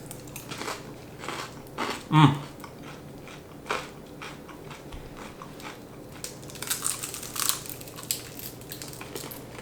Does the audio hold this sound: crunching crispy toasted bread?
yes